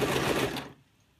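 A sewing machine stitches a memory cushion in a short burst of steady whirring that stops abruptly after about half a second, leaving near silence.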